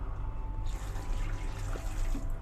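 Tap water running steadily into the hand-washing sink of a KA Taksaka New Generation train toilet, a continuous close splashing flow over low rumbling train noise.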